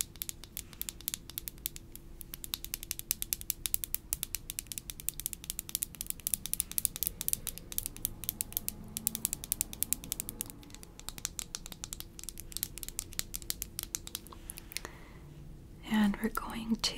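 Maybelline Eraser concealer in the salmon shade opened and twisted up, with quick, fine ratcheting clicks close to the microphone under soft whispering.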